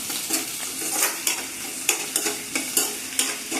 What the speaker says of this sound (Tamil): நல்லா வதங்கணுது.